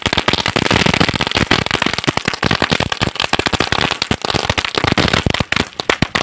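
Sivakasi firecrackers from a combo pack bursting outdoors in a rapid, dense string of sharp cracks and pops, loud and close, crackling almost continuously for several seconds like a long chain.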